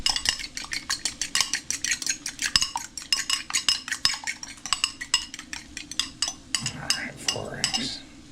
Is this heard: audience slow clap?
no